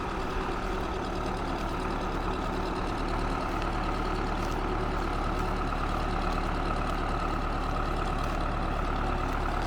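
A tractor engine runs at a steady, loud, continuous drone with a deep low rumble. It stays unchanging and close throughout, with no talk.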